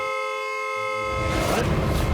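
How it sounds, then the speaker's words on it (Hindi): A steady car horn blares continuously from nearby, joined midway by a rougher, louder rumble of traffic or engine noise. "नॉन स्टॉप हॉर्न बजा रहा है?"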